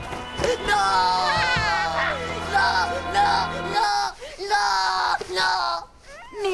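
A cartoon child screams and yells loudly in repeated bursts, with other cartoon voices shouting over a steady background hum that cuts out partway through.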